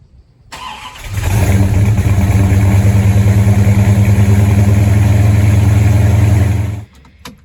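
A Plymouth RoadRunner with a freshly repaired transmission backs out and pulls away, its V8 rumbling loud and close in a steady, throbbing idle-to-cruise drone for about six seconds before cutting off.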